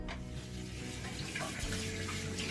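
Water runs steadily from a tap into a sink, a continuous close splashing wash that fills the whole moment with no talk over it.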